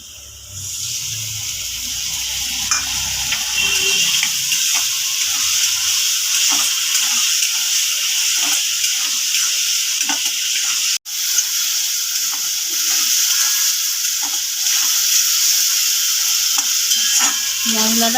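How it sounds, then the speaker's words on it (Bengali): A spice paste of chilli powder, turmeric, salt and sugar sizzles steadily in a pan, with a continuous hiss and occasional soft stirring clicks and scrapes. "মশলাটা ভালো করে কষিয়ে নিয়েছি,"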